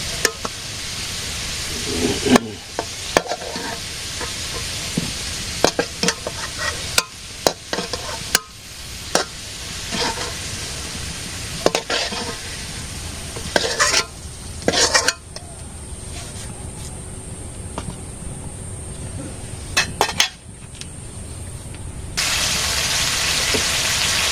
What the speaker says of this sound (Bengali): আলু ভাজি করে নিলাম